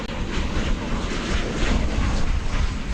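Boeing 737 airliner arriving at DFW Airport, a steady, loud broadband jet roar that holds throughout without a break, with no voices over it.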